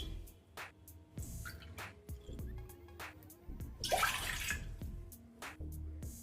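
Two cups of water are poured into a pot to make a kesar chai decoction. A single close, brief splashing pour lasts about a second, over a quiet kitchen background with faint clinks.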